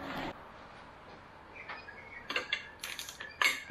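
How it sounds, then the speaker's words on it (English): Mechanical clicks and metallic ratcheting as the big crank nut on a Nissan RB30 engine block is worked loose, quiet intermittent bursts of clatter close by, with no one speaking. "I'm gonna start with the first thing I can think of, and that is to get the big crank nut off there"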